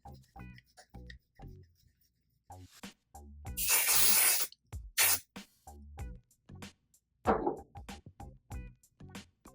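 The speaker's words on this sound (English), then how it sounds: "shake can, spray 12 inches away from batting" An aerosol can sprays onto quilt batting in two bursts, a long steady hiss followed by a short one, set between quieter shuffling and handling noises.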